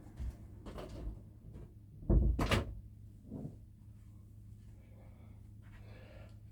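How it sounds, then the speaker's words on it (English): A door is shut indoors with a couple of solid thumps in quick succession over a low steady hum, followed by softer handling sounds. "Let's shut the door."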